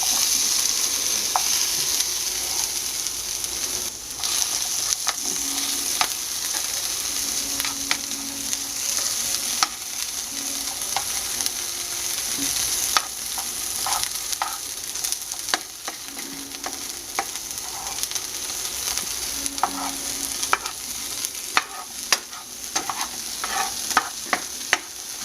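Vegetables, peppers and turkey fry in a pan for pasta carbonara, a steady close sizzle broken by frequent scraping and tapping as the food is stirred and spread out.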